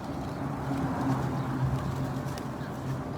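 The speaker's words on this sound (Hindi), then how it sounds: "ये डाल रहे हैं, ये देखें कबूतरों को दाना" Pigeons coo softly in a flock at Mecca while grain is scattered for them, their murmuring calls blending into a dense outdoor crowd hum.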